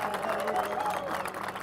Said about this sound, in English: can we just get a separate round of applause for our fire,